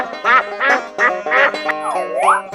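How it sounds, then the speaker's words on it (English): Loud, close, repeated nasal duck quacks from a 3D animal video game come in several quick bursts, ending in a sliding, wavering call. "Duck."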